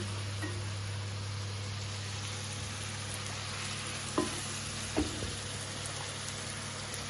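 Onions and ginger frying in a pan give a steady, even hiss with no voices, broken by two soft clicks near the end.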